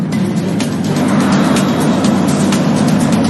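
A Tesla electric car drives with steady, loud road and tire roar, with a faint whine over the broadband rumble and no engine note or voices.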